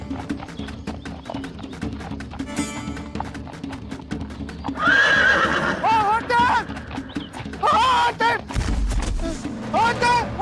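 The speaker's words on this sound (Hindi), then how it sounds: "वो हमारा घोड़ा लेकर नहीं गया, बल्कि हमारा घोड़ा उसे लेकर आ रहा है।" A horse gallops closer with a fast clip-clop of hooves, then gives several loud, shrill neighs and whinnies, while dramatic music plays and people speak over the scene.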